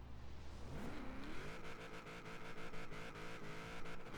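A Honda Civic hatch with an 1100hp+ drag build revs hard in Forza Horizon 4, its engine note rising steeply in first gear, loud and continuous, with no talk over it.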